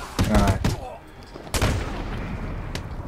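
Gunfire bursts from the Batman: Arkham City video game, with a couple of loud shots early and another strong burst midway, fading into a rumbling background.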